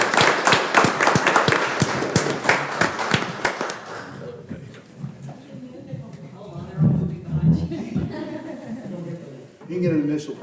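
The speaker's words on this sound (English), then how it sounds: "please give Ariana a huge round of applause for this substantial" Applause from the audience at a Preston school board meeting, dense and loud for about four seconds with sharp percussive claps, then fading as voices talk and murmur across the room.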